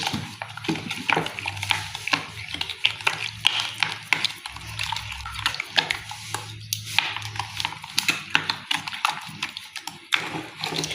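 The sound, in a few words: mixing brioche ingredients with sugar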